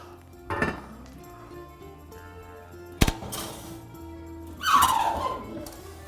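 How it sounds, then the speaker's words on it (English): Lid set onto a pot as a bread loaf goes back into the oven, giving a few sharp metallic clinks and a clatter with quiet gaps in between. "And put the lid on and pop it right back in the oven."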